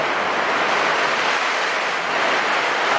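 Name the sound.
strong typhoon wind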